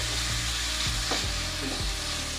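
Butter frying in a very hot pan gives a steady, dense sizzle, with a few soft stirring knocks and scrapes in the pan partway through.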